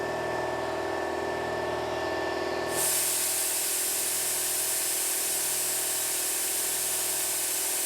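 Compressed air hisses steadily through a DIY FogBuster-style coolant mister on a milling machine, a broad continuous spray that jumps noticeably louder about a third of the way in and then holds steady to the end.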